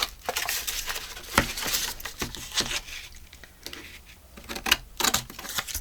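Paper being cut for a sack journal with scissors, a run of quick crisp snips and rustles up close, with a few sharper clicks standing out; no one talks.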